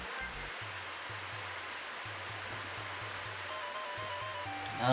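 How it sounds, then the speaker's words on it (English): Steady broadband rushing water of an underground river in Pokémon Hunter 3: The Search for Curly's Gold, like a looping stream or waterfall effect, with a low rhythmic pulsing tone underneath and no voices. "There's the water sound effect."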